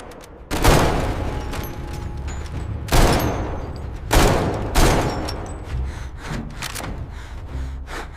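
Weapons fire from a military robot, several loud sharp bursts and booming shots spaced a second or two apart, followed by quieter scattered reports, close and without talk.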